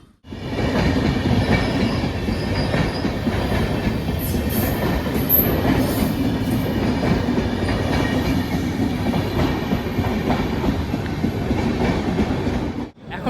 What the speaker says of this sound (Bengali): এই ট্রেনটা কিন্তু Kolkata Jammu Tawi express one three one five two মানে কলকাতা থেকে আসছে ট্রেনটা